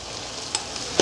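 Oncom dropped into a pan of fried spice paste with bay leaves over medium heat, giving a continuous hissing sizzle with a couple of small clicks from the pan.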